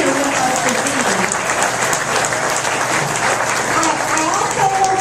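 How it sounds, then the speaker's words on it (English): A room of attendees at a Farm Bureau forum for 11th District candidates gives a sustained, even round of applause, dense clapping from many hands with faint voices underneath. "join me in giving this group of candidates a big round of applause"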